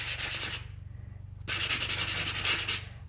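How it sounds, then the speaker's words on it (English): Rhythmic scratchy rubbing of sandpaper on an old sanding block, back-and-forth strokes close up, with a brief pause midway before resuming. "we are going to do some sanding"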